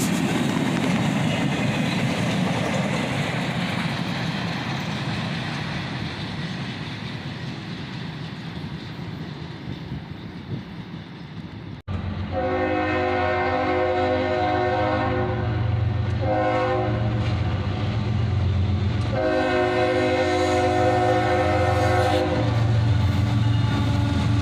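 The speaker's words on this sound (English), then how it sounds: "This one had an empty continuous rail train on the tail end here." An empty continuous rail train passes: a broad rumbling roar and wheel noise at first, then a loud steady horn chord joins and sounds in long repeated blasts over the rolling clatter, close and sustained.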